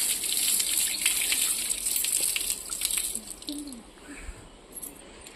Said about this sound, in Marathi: नळाला पाणी आहे, तर पाय धुवून आपण आतमध्ये जाऊ